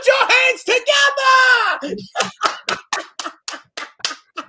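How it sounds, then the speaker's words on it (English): During a virtual conversation, a voice speaks and then about ten sharp, separate handclaps follow in an uneven rhythm, close and clear, thinning out toward the end. "Put your hands together."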